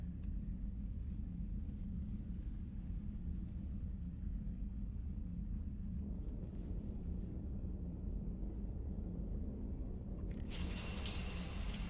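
Shower water running in a bathroom aboard the Normandy starship in Mass Effect 3, a steady close rushing stream that turns brighter and louder near the end.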